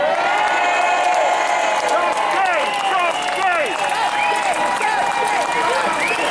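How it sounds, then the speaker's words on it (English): A large crowd at a Scottish independence event cheers and whoops continuously, with scattered clapping and shouted voices rising and falling throughout. "Give a big cheer to my Uncle Shug"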